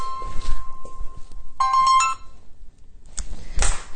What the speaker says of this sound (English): Hold on, we got another phone call.